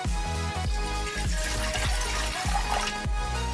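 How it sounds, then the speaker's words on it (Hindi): Water pours steadily into a metal pot, a continuous splashing stream with a hollow, ringing quality. "और इसमें डालूंगी पानी।"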